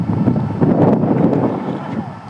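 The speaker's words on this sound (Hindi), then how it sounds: "काफी तेज हवाएं" Strong wind blowing into the microphone at an outdoor cricket match: loud, low, fluttering rumble in uneven gusts that swell and fade over a couple of seconds, with no clear speech.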